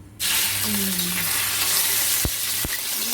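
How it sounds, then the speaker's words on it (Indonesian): Shrimp sizzle and fry in hot oil in a pan, a steady loud crackling hiss that begins abruptly and runs throughout, with a couple of sharp pops near the end while preparing simple fried rice. "Saya goreng udangnya dulu teman-teman, lihat"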